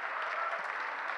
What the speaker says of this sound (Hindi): तालियां पीछे वाले कम बजा रहे हैं साहब।